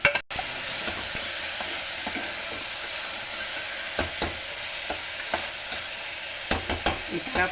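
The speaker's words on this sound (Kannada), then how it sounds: "ಹಸಿ ವಾಸನೆ ಹೋಗೋವರೆಗೂ ಒಂಚೂರು ಈ ಥರ ಹುರ್ಕೊಳ್ಳೋದು" Masala fries in hot oil while a spoon stirs it, producing a constant soft sizzle broken by repeated scraping clicks and taps against the pan.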